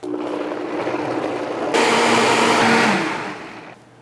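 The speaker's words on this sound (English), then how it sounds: "Lid goes on, and we blend." A blender whirs through salsa made with cilantro, mostly stems, avocado oil and lime, climbing from a lower hum to a louder, harsher roar midway before winding down, with no talking.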